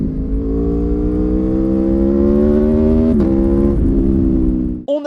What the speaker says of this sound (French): son moteur V4 absolument fantastique, dont la sonorité est enchanteresse